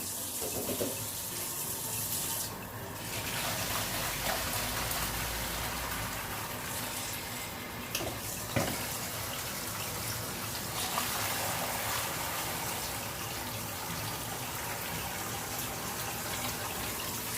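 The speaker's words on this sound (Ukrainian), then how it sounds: "Відварені грибочки, ми зливаємо воду." Water from boiled champignon mushrooms pours steadily in a continuous broad rush, like draining into a sink, with brief clatters near the start and middle.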